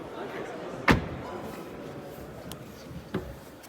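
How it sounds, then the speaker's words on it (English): A car door shuts on a 2024 Škoda Superb L&K, one solid slam near the start, then a fainter second thud a couple of seconds later, against quiet interior background hiss. "let me just close this door so you can hear the soundproof."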